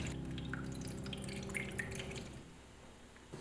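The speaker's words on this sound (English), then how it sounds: "Transfer the cake to a baking sheet and add water to the baking sheet." Water is poured onto a baking sheet holding a matcha cheesecake, giving a soft, steady trickle with a few faint drips, low and quiet throughout.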